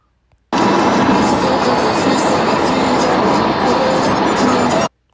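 Freight train hauled by about six locomotives rolls past, a loud, steady broadband roar that starts abruptly, holds for over four seconds with no letup, then cuts off.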